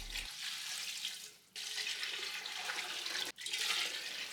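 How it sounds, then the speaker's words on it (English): Water gushes steadily from a tap into a pot, a loud continuous rush broken by two brief pauses before it resumes. "I'm covering that with about a gallon and a half of water."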